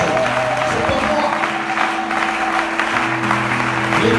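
Applause and cheering from a seminar audience in Congo, steady and loud, with sustained musical tones or a held note running underneath throughout.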